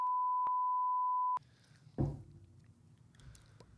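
A steady censor beep tone holds for over a second, then cuts off abruptly into quiet room noise and a brief thump.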